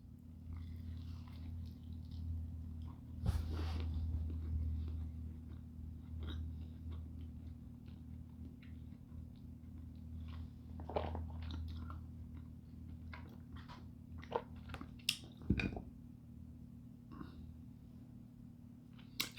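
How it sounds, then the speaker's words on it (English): Someone bites into and chews a Quest keto pizza close up, making soft crunches and scattered chewing clicks over a low, steady room hum. "So let's bite into this and see how this goes."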